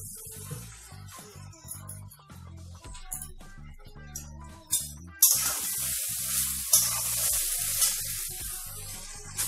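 Boiled rice tipped into a hot oiled pan for fried rice, a sudden loud sizzle and frying hiss swelling up after earlier quieter stirring and clatter, close and steady.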